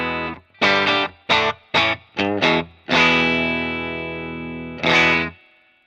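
Clean electric guitar played through a Monty's Guitars More boost pedal: a few short plucked chords, then a long ringing chord that slowly fades and one more strummed chord, heard alone with no talking.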